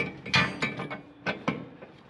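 Ratchet driving bottom screws into the suspension of a Corvair Greenbrier van: several close, gritty clicking bursts in an uneven rhythm.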